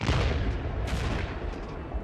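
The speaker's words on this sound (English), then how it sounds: "Baghdad tonight, 19th evening of airstrikes." Airstrikes over Baghdad in archival news footage, a dense, continuous rumble of distant explosions and crackling gunfire with steady loudness throughout, no voices.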